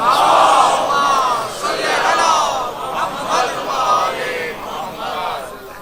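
A crowd chanting the Naara-e-Haidari slogan in unison at a religious gathering, loud and sustained, with several swelling shouted waves.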